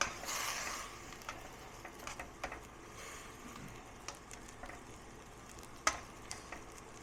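Soft sizzling and bubbling of bolognese sauce reducing in a pan as alcohol burns off, with scattered small clicks and ticks from utensils; steady and fairly quiet, no talking.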